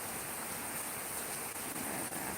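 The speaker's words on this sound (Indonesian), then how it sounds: "Sini lagi musim hujan, mau lihat Kak?" Steady rainfall during the rainy season, a dense, even hiss of rain on surfaces that holds unbroken from start to end, with no talk.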